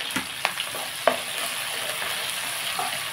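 Potato, beetroot and carrot fry in a pan with a loud, steady sizzle up close, broken by a few sharp clicks from stirring.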